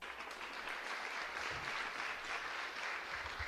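Audience applause greets a conference speaker at an education fair, a steady dense wash of clapping filling the room at moderate loudness from start to finish.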